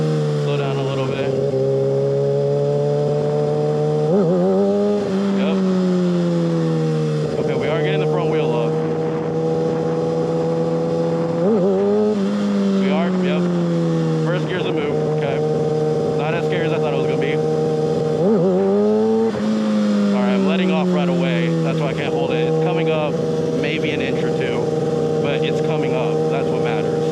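A 600cc super sport motorcycle engine drones loudly and continuously during wheelie attempts, rising and falling in pitch as the rider rolls the throttle on and off several times.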